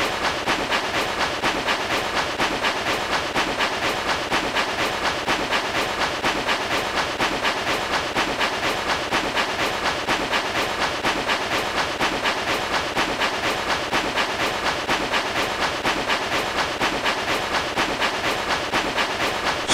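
A train rolls steadily along the tracks at high speed, with an even rhythmic clatter and hiss running the whole time at constant loudness and no voices.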